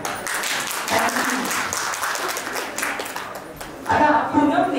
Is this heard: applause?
yes